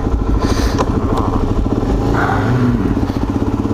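A Suzuki DRZ400SM single-cylinder motorcycle with an MRD exhaust, idling loud and close with a steady, rapid thumping pulse and a slight rev, heard alone.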